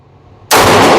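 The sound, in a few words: Taurus G2C/G3C pistol shots fired at a target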